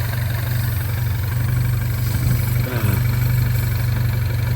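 A MINI Cooper S with an N18 engine and a metal valve cover runs at a steady, smooth idle, loud and close, with a faint rattle partway through.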